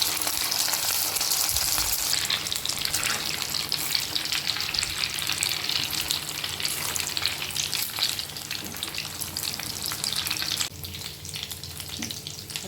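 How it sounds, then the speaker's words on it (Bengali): Egg bread chops deep-frying in hot oil for a Bengali evening snack, a steady dense crackling sizzle that stays loud and close throughout, easing slightly near the end, with no talking. "আর এখানে আমি তেল বসিয়ে দিয়েছিলাম, তো আমার এগুলো এক এক করে আমি ভেজে নেব।"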